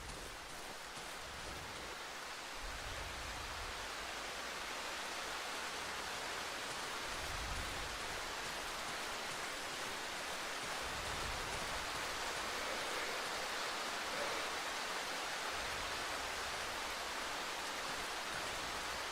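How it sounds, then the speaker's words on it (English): Rain falls steadily in the survival horror game Darkwood, a dense, even hiss of downpour that continues unbroken throughout with faint low rumbles underneath. "I hate the rain in this game."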